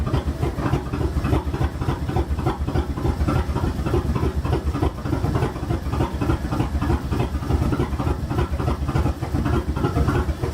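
A Firebird Trans Am engine idles roughly with a couple of injectors not firing, producing a steady, uneven low rumble and chugging pulse that runs on without talk.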